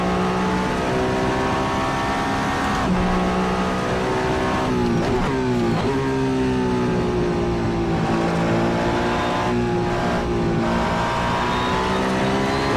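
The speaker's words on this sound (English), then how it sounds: "You heard the wheels locking there." A Le Mans Hypercar race car engine in Assetto Corsa drones loudly and steadily, shifting pitch, with a brief squeal of wheels locking under braking midway; no talking.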